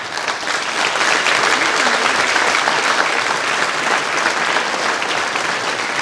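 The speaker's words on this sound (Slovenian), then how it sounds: "zaploskamo vsem našim godbenikom" Concert audience applauding the wind band musicians at a municipal New Year concert, dense sustained clapping from a large crowd, loud and even throughout.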